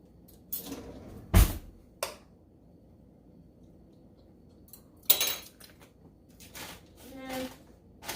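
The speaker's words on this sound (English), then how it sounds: "Let me get a spoon." Metal cutlery clinks and rattles as a spoon is pulled from a drawer in a home kitchen while baking a Texas sheet cake, a few sharp clatters spaced apart with quiet rustling between.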